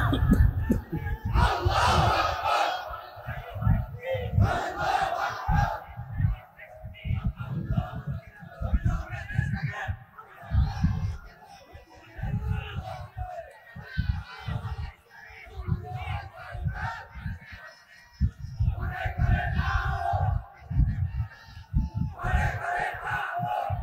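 A large crowd at an Islamic sermon roars Allahu Akbar again and again in loud, rhythmic unison, with surges and pauses between each shouted response to the takbir call.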